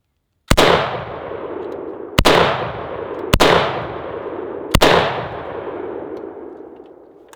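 Four sharp, loud AK-47 rifle shots in 7.62x39 are fired at firehose, spaced irregularly a second or so apart, each cracking close by and ringing out in a long decaying echo.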